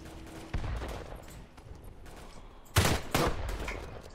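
Rifle gunshots in the World War I shooter game Tannenberg: a sharp nearby shot, then two loud cracks close together with distant battlefield gunfire underneath.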